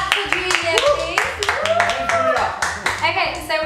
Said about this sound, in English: Clap for Julia